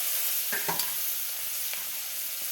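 Onion and puffed rice frying in leftover egg oil give a steady close sizzle, broken by a few clinks and scrapes of stirring in the pan.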